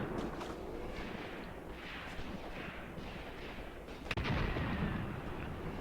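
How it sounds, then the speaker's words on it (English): Russian 5cm mortars shell an abandoned gun position in Graviteam Tactics, Kharkov 1942, as a continuous muffled rumble of distant battle with one sharp, close impact crack about two-thirds of the way through. "The Russians are using their 5cm mortars to shell my gun now."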